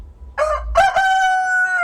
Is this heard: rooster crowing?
yes